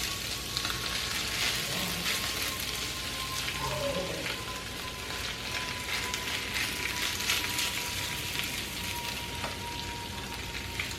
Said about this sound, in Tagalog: ilagay lang natin yung ating sizzling bangus sisig